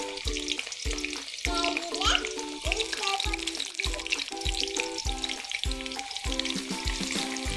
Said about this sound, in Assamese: এয়া পিঁয়াজ দিছোঁ